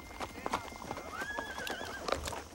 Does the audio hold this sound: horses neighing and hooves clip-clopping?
yes